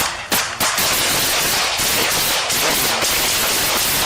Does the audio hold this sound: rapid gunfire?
yes